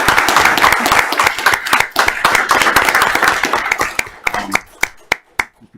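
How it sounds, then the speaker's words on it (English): Audience at an Apex town council meeting breaks into loud, sustained applause, dense clapping that thins out near the end into a few scattered, sharp claps. "they deserve the heroes' applause."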